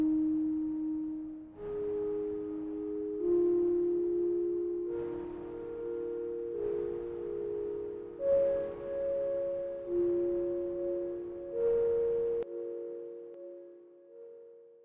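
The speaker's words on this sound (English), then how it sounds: "just 2 sine waves slightly detuned with some noise running into a delay" A soft, pure electronic tone from two slightly detuned sine waves with added noise sustains and shifts in pitch with a slight beating wobble, each note echoing through a delay into repeats over a faint hiss before fading out.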